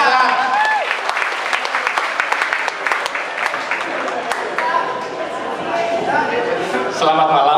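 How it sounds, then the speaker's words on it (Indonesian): An audience at an open mic comedy night claps loudly and steadily for a comedian taking the stage, a dense sustained burst of applause mixed with crowd noise and a few shouts. "beri tepuk tangan yang meriah buat Mas Rizal"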